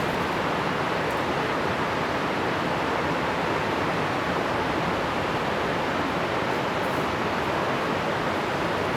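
Waterfall pouring over a travertine barrier at Roški Slap in Krka National Park, a dense, constant roar of rushing water that holds steady throughout with no voices.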